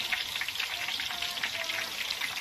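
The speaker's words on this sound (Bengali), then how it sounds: "প্রথম খোলার মাছগুলো ভাজা হয়ে গেছে এবার তুলে নেব" Freshly caught pond fish fry in hot oil while food is cooked for a wedding, producing a steady, dense sizzling hiss that stays even throughout with no talking.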